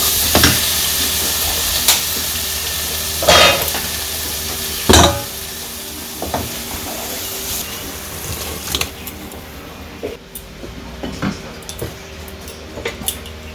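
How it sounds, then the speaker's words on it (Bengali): Water lily stems frying in a pan in a village kitchen, a continuous sizzle broken by sharp metal scrapes and clinks as a spatula stirs them, close and loud at first, then quieter with scattered stirring taps. "ভালো করে মিশিয়ে নিয়ে ভাজা ভাজা করে নিচ্ছি"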